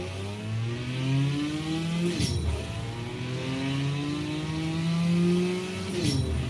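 Racing cars in the mobile drag-racing game CSR2 Racing, one a Fiat, with engines revving up through the gears in rising whines, two sharp shift breaks, and a steady loud roar throughout.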